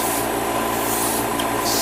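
White paint, thinned half and half with leveling thinner, sprays onto 1/100 Master Grade Gundam Barbatos model parts as one steady, close hiss lasting about two seconds.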